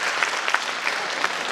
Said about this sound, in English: we request you to give a bigger round of applause